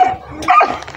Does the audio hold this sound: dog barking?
yes